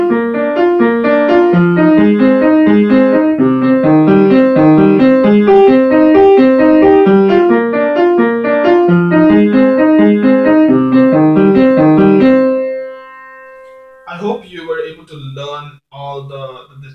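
Piano plays the repeating hook chords of a song, a steady, close, bright pattern of rhythmic chords for about twelve seconds that then rings out and stops, followed by brief talking.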